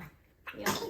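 A baby's short, sharp sneeze bursts out after a quiet moment, close by and fairly loud, with no talking around it.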